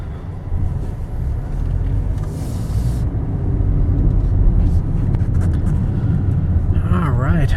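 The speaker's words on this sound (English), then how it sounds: "Very smooth and quiet car." Steady low engine and road rumble from a 2023 Toyota Corolla LE driving on a test course, a continuous close interior drone that swells slightly midway, with no talk over it.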